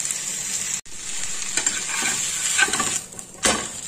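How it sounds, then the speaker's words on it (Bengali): Vegetable uttapam fries on a hot pan with a steady, close sizzle, crackling bursts rising and falling over several seconds with a brief break near the start. "যে সবজিগুলো দিয়েছি সেটা একটু ভাজা মতো হলে নামিয়ে দেখাচ্ছি"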